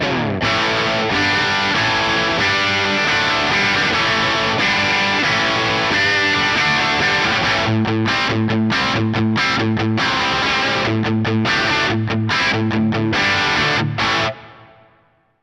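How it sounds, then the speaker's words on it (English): A distorted Les Paul electric guitar chugs through a crunchy JCM 2000 amp model on a NUX MG300, sustained chords giving way to tight palm-muted stops, then ringing out and fading. "I'm playing my Les Paul and I'm using the JCM 2000 model"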